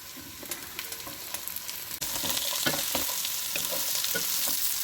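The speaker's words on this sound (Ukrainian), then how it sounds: "Тепер засипаємо капусту і ще смажимо 4 хвилини." Chopped cabbage sizzles in a hot frying pan while being stirred, a quieter crackle that jumps to a loud, steady hiss midway as more cabbage goes in, with occasional scrapes of the spoon.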